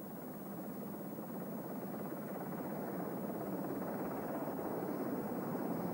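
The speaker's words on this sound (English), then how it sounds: "the helicopters were going in again and again to take them off." Military helicopters during the Falklands War fly steadily overhead during the rescue of crew from the burning frigate Antelope, a continuous loud rotor and engine roar that holds level throughout with no talk.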